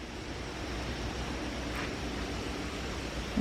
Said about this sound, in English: All that noise is the creek running.